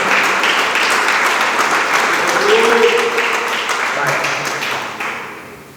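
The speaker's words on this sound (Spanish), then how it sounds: "Denle palmas al Cristo de la gloria." A church congregation claps together in a sustained, dense round of applause mixed with voices, steady and loud before tapering off toward the end.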